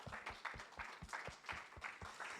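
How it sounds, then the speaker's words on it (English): A church congregation gives a clap of praise, many hands striking together in a quick, even rhythm, soft and somewhat distant throughout. "Can we give the Lord a clap of praise before we start?"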